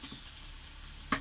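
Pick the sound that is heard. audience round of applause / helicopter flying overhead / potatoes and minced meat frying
potatoes and minced meat frying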